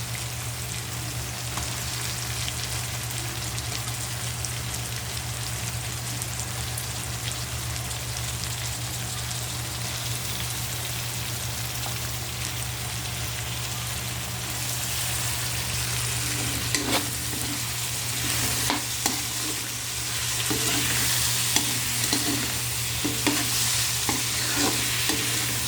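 Tomatoes and shrimp sautéing for pinakbet, a steady wet sizzle held at an even level with a low hum underneath, and stirring scrapes and clinks picking up near the end.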